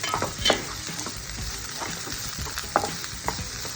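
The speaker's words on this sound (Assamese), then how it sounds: "অকণমান পিঁয়াজখিনি ভজাৰ পিছত কেপচিকাম সৰু সৰুকৈ কাটি থৈ দিছিলোঁ, এইখিনি দিলোঁ" Chopped capsicum sizzles with onions in a pan, a continuous close fry broken by irregular scrapes and clinks of a spoon stirring, with no voices.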